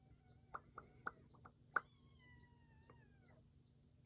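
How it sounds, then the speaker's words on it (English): Kittens meowing nearby, several short high mews in quick succession and then a longer drawn-out cry, faint over a low steady hum. "Hear the kittens."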